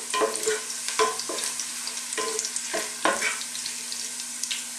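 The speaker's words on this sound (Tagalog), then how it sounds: "i-add na natin yung ating onion. Haluin lang natin siya ng mga ilang segundo pa." Ginger and onion sauté in a cooking pot for a Filipino mussel soup while a utensil stirs them in a series of distinct scraping strokes over a steady frying sizzle, close and clear.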